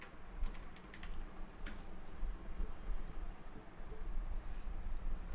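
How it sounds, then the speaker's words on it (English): Keyboard typing during a live React coding session, a soft continuous clatter of keys at low level, fairly distant, over a faint background hum with no voices. "all of you typing along with me."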